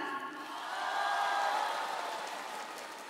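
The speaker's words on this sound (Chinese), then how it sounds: "大家快快鼓掌！" Concert audience applause from a full hall, a soft, distant patter of many hands that swells slightly and then eases, with no one speaking.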